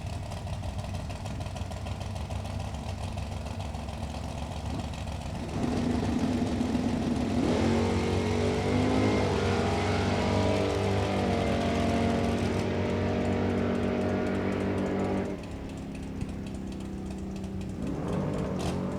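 Mopar and Rally Stripe Nova drag race cars launch and race side by side at a drag strip, their loud engines roaring steadily and rising in pitch as they accelerate, then fading off near the end.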